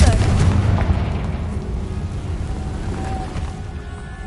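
A fire-blast spell explodes in a video game with a loud booming burst at the start, its rumbling roar decaying over about four seconds, with no voices over it.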